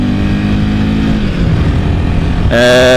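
A 2004 Kawasaki KL250 Super Sherpa single-cylinder dual-sport motorcycle on fresh tyres, heard while riding: a loud, steady engine drone with wind rush, the pitch shifting as it changes gear near the end.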